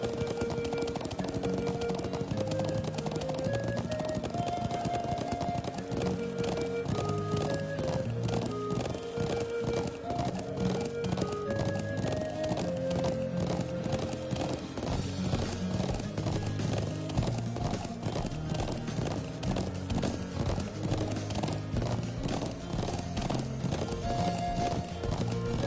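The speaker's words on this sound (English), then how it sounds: "I'm getting into the whole riding the horse thing." Steady clip-clop of horse hooves from riding in the video game Trails of Cold Steel, a continuous rhythmic trot layered under melodic game music throughout.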